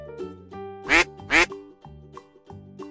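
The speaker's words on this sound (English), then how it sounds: "Duck." A farm duck gives two loud, close quacks in quick succession, set against a bright plucked-note backing melody.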